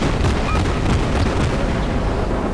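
Naval guns and shell explosions in World of Warships, the light cruiser Aurora in battle, a dense, loud booming rumble of overlapping blasts lasting a couple of seconds with no voices.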